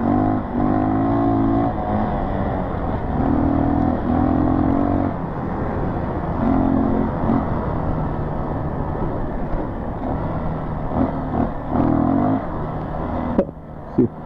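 Motorcycle on a dry, dusty horse trail, its engine droning steadily with repeated revving surges and changes of pitch, close and loud, with no talking.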